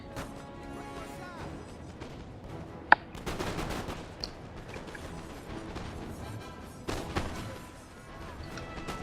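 Musket volleys in a Napoleon: Total War battle crackle as scattered, distant gunfire under a busy wash of battlefield noise, with one sharp nearer crack and later bursts of massed firing.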